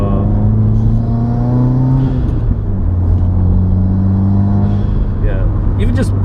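A 2015-or-later Subaru WRX engine runs with a steady low, throaty drone and a slight rise and fall in pitch, loud and close, with people talking over it.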